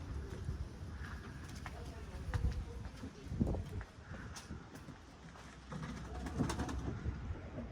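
Racing homing pigeons coo softly in a loft on a hot, muggy day, low rolling calls recurring through the clip against a busy background with faint distant chirps.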